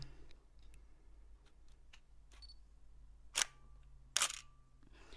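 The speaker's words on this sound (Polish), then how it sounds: "teraz najważniejsze, żebyście usłyszeli dźwięk migawki" Two sharp DSLR camera shutter clicks about a second apart, standing out from a quiet room hum and a few faint ticks.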